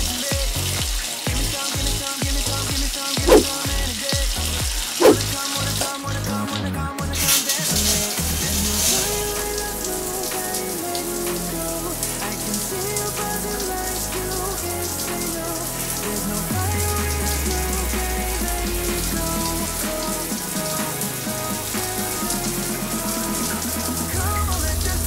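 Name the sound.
shower running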